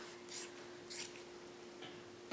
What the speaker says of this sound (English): So I've got some fabric scissors and I'm gonna cut this in half.